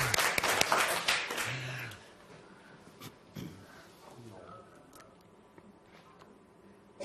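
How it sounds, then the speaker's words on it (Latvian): A short burst of applause from a small audience at the opening event of a 2012 e-skills week. The clapping is fairly close and lasts about two seconds before fading into quiet room sound. "Mēs varētu aplausus."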